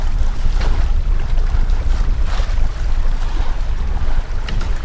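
Sailboat on a beam reach at 5.6 knots, with loud continuous wind buffeting and rushing water along the hull making a dense, steady roar.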